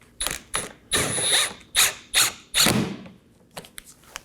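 A hand ratchet snugs down 7mm bumper bolts on a Chevrolet Equinox, giving close, sharp clicking bursts in quick runs, then a few lighter single clicks.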